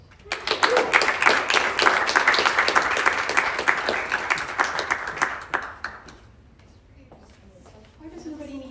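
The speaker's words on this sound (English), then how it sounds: "Let's now give a round of applause to the fourth speaker" An audience at a World Speech Day debating event at Sorbonne University, Paris, breaks into loud, dense applause for a speaker, lasting about six seconds before fading, after which a voice begins speaking.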